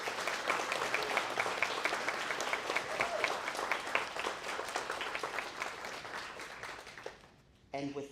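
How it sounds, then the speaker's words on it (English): Sustained audience applause at an annual school awards ceremony, a thick roomful of clapping that stays strong for several seconds, then thins and fades, with a short loud burst at the end. "give a round of applause to our students"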